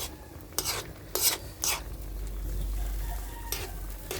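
Pork adobo boiling in a pot is stirred, with a few scraping utensil strokes against the pot over a low bubbling rumble, close and moderately quiet.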